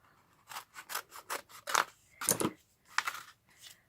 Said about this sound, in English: that allows me to cut this out without getting my scissors sticky